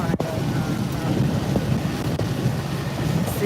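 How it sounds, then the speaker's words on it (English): Heavy derecho wind buffets a vehicle driving on a highway near Sioux City, a loud steady roar with a few sharp gusts and thumps, while people inside speak over it. "Heavy wind."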